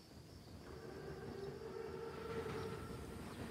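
A WWII German armored train (Panzerzug) in Call of Duty WW2 rolls by as a faint, steady rail rumble with a low mechanical drone, distant and quiet throughout.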